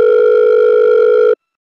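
Telephone ringback tone while calling the owner of a Swift Dzire tour car for sale: a single loud, steady tone lasting over a second, then cutting off to silence, alone.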